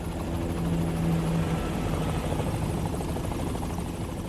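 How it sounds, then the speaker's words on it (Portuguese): A helicopter's rotor and engine produce a steady, loud, continuous throbbing drone throughout, with no voices over it. "com som de helicóptero e tal."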